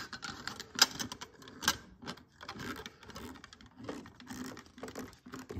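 A screw is driven by hand into the driver door panel of a K2000 Kitt replica model, giving close, faint, irregular clicks and scraping ticks with short pauses.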